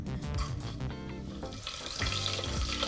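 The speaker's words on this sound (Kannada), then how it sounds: "ನಂತರ ಇದನ್ನು ಸ್ವಲ್ಪ ಎಣ್ಣೆ ಮತ್ತು ತುಪ್ಪದಲ್ಲಿ ಹುರ್ಕೊಳ್ಳೋಣ" Cinnamon, cloves, cardamom and fennel seeds frying in hot oil and ghee for methi pulao, a steady close sizzle with a bubbling, watery hiss and occasional stirring.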